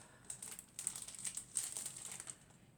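Crinkly wrapping rustles and tears in quick, uneven bursts as a wrapped beauty advent calendar gift, a Delila brush, is opened up close, with no talking.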